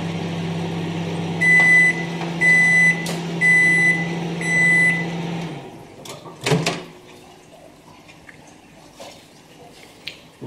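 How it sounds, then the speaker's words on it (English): A steady low hum of a microwave running for several seconds, punctuated by a series of short beeps, then the hum stops and a door clunks. "Now we'll put them into the microwave for a minute,"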